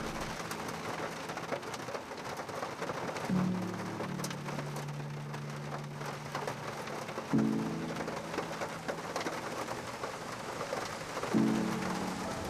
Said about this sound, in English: the sound of its rain and thunder make you feel even more alive and free